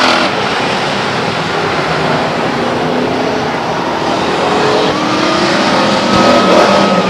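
Race cars run at Stockton 99 Speedway during an oval-track event, a continuous loud roar of engines with rising and falling revs as cars sweep past, with faint tire noise in the mix.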